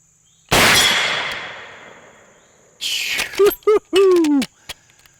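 A Henry X lever-action rifle in 45-70 fires once, loud and close, its blast fading over about two seconds before sharp metallic clangs ring out from a large steel target downrange, followed by a few fainter ticks.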